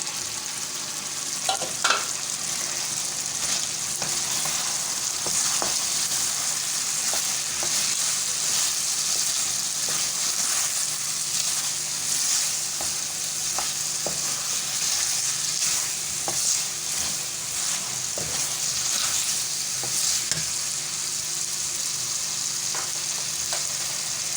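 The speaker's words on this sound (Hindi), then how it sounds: "तो जो हमने इसकी चिकन को तला था ये डाल देते हैं।" Fried chicken pieces tossed and stir-fried in a hot pan for a Chinese-style dish, with a steady loud sizzle and frequent sharp spatula scrapes and clinks throughout, no talking.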